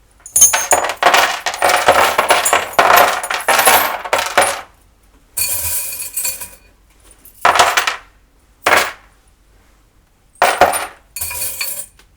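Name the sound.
tarot charms (breloques) being dropped and clinking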